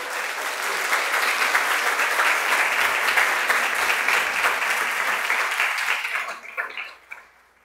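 A church congregation at a morning worship service applauds in praise, dense steady clapping from many hands sustained for several seconds before tapering off near the end.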